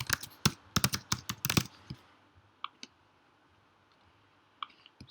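Someone types an email address on a computer keyboard: a quick, close burst of crisp key clicks for about two seconds, followed by a few isolated taps separated by pauses in an otherwise quiet room.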